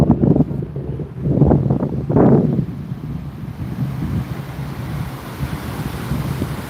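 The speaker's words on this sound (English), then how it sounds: "All this water is snow melt right now." Snowmelt creek water rushing steadily beside a rider on an electric unicycle around Boulder, a continuous broadband roar with gusts of wind buffeting the microphone, louder surges early on, then settling into an even wash.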